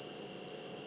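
A digital thermometer gives a thin, high electronic beep repeating briefly, faint and close, with a steady tone humming underneath.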